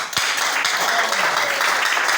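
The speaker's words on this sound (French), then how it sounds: "Maintenant, l'assemblée applaudit." A church congregation applauding, a dense, steady wash of clapping held at even volume throughout, with a couple of sharper claps near the start and faint voices mixed beneath.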